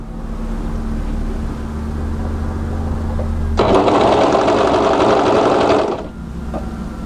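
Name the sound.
overlocker sewing raw edges of a tee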